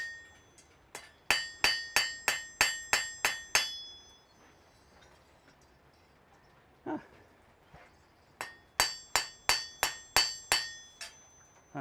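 Hammer blows ringing on an anvil in a smithy, two bursts of about eight sharp metallic strikes in quick even rhythm, separated by a quiet pause with a single duller knock.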